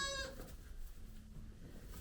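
A baby goat kid gives one short, faint bleat at the very start, followed by quiet barn ambience.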